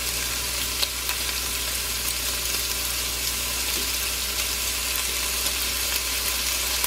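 Four slices of thick-cut bacon fry in a pot with no added grease, giving a steady, dense sizzle and crackle that holds evenly throughout with no voices.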